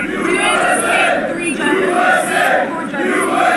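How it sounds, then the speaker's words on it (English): A large crowd in New York chants loudly and continuously, many voices roaring together in a steady rising-and-falling rhythm. "as you hear those chants, keep in mind, this is Donald Trump"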